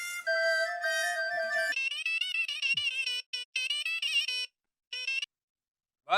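A telephone ringtone sounds as a call is placed in a Hindi TV sitcom scene, a loud electronic melodic tone that plays steadily, then breaks into shorter bursts with gaps, no voices.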